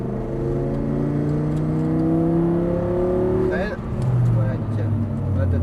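An Audi R8 V10 accelerates on a racetrack, its engine note rising steadily in pitch before a brief dip and a renewed climb, loud and close from inside the car, with a person talking over it.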